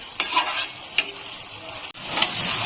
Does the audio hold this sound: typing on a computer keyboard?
no